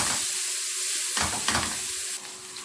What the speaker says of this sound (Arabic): انا هديله بس تشويحه كمان